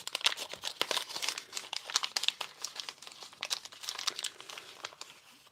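Close, continuous crinkling of a small paper bag holding alkaline batteries, a dense run of sharp crackles and rustles that fades slightly toward the end, with no voices.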